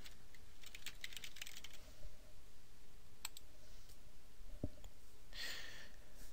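Quick, light keystrokes on a computer keyboard come in short runs and then pause, with a few isolated clicks. Faint hiss sits underneath, and no one speaks.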